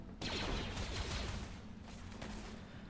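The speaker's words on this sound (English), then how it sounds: "Just fire into that mass of bodies with these machine guns, would you?" Sustained machine gun fire from a colony battle in Rimworld, a dense continuous rattle of rapid shots that starts abruptly and keeps going at steady loudness, with no talk over it.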